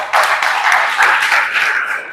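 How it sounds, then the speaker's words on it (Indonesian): Loud applause from a classroom audience for a student at a teacher training session in Semarang, a dense, continuous wash of clapping lasting a couple of seconds after a sudden start, with no talk over it. "Tepuk tangan untuk Muhammad Ridwan."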